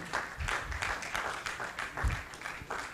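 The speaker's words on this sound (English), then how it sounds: "Let the applause continue, please." Sustained applause from a seated audience at an academic anniversary ceremony, fairly soft and continuous with uneven swells of clapping.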